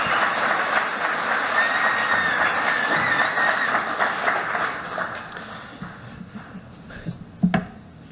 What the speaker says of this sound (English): give Tessie a round of applause for her efforts in coordinating this